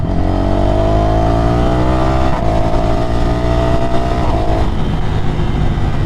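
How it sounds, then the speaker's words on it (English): A 2024 Ducati Scrambler motorcycle pulls hard in first gear, its loud, close engine note climbing steadily in pitch with a brief dip near the middle before rising again, continuous with no talking. "So I dropped down to first gear. Give you a bit of an idea what the power's like."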